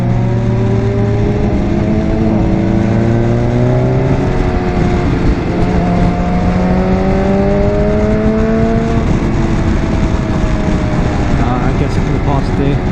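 A BMW S1000XR motorcycle engine drones steadily while riding, loud and close with rising and falling pitch as the revs change, under constant wind noise.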